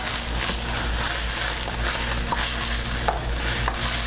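Ginger garlic fries in a hot pan over high heat, giving a steady sizzle, while a utensil stirs and scrapes with occasional soft clicks.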